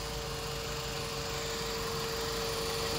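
A Japanese motorbike engine idling smoothly and quietly, a steady even hum with a constant tone and no revving, heard alone.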